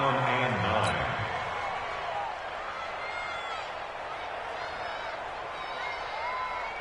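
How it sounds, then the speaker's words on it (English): A stadium crowd in a PS4 football game roars steadily before a big third down, a broad continuous wash of cheering noise that starts loud and settles slightly lower without pausing. "The crowd getting into it as we come up on a big 3rd down"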